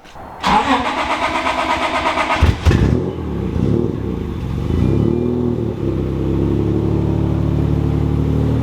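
A 700 hp V6 AWD Honda Civic with a 76mm big single turbo cranks with rapid whirring, catches, then revs and settles into a loud, steady idle close by.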